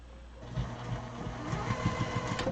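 Sewing machine sewing large top stitches through vinyl, a low mechanical whir with quick rhythmic needle thumps running steadily through the short stretch, fairly close and moderately loud.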